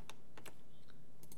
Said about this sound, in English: hit P on our keyboard